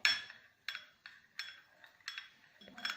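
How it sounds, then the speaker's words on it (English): A container of homemade hand sanitizer being stirred, giving a series of about six bright, ringing clinks at a steady rhythm as the utensil taps the sides, close and fairly quiet. "And now we will stir our solution."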